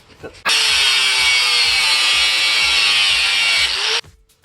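An angle grinder cuts metal on a riding mower's front wheel setup, the work held with a C-clamp. Loud, steady, high-pitched whine runs unbroken for about three and a half seconds, then cuts off abruptly.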